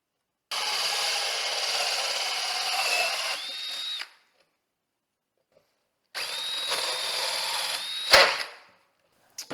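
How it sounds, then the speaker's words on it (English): A power drill whines steadily through wood in two long bursts separated by a pause, close and loud, ending with a brief crunch as it breaks through. "we're just going to drill a hole."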